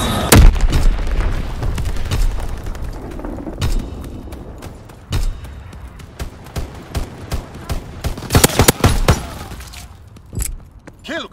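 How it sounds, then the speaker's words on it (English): Fritz X bomb strike in Call of Duty WWII on the Egypt multiplayer map: a string of heavy booming explosions and sharp bursts, loud and close, with gunfire clatter between the blasts. "Fritz X bomb mission underway."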